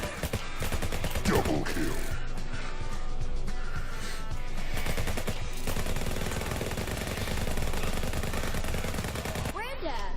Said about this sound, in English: That is a big minigun.